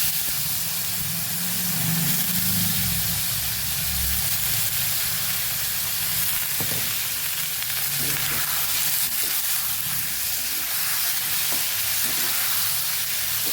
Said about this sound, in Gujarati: પાંચ ચમચી જેટલી હિંગ ઉમેરશું અને બટેકાનો આપણે વઘાર કરી દઈશું